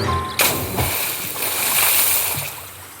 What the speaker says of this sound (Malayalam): എന്റെ കോടാലി വെള്ളത്തിൽ വീണല്ലോ